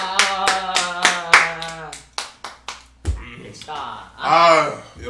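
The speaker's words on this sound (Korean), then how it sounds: "박수!" A small group claps hands in a fast, sharp burst of several claps at first, then a few scattered claps, with people talking and laughing loudly over and after it.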